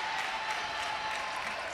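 Spectators at a London 2012 Paralympic table tennis bronze medal match, applauding in a dense, steady wash of clapping from a large crowd, close and sustained throughout.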